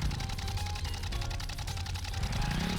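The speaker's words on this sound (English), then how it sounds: "Oh, that's the sound of the plane." Plane engine in the video game Ruffy and the Riverside, a steady droning rumble with a rapid fluttering texture that stays loud and continuous throughout, with no voices over it.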